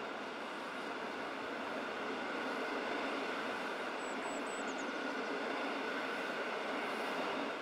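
A Rhaetian Railway Ge 4/4 electric locomotive hauls a train made up almost entirely of Einheitswagen I coaches past at close range, giving a steady, loud rolling rumble with a faint high squeal partway through.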